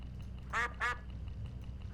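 Hooded crows beside a road in the video game HitchHiker give two short, harsh calls in quick succession, fairly close and clear over a steady low hum.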